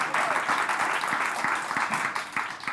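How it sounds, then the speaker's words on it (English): Audience at a Milwaukee arts event applauding a man welcoming them to the stage, dense continuous clapping from many hands at a moderate level, steady with slight fading toward the end. "Round of applause for him before you even know what he does."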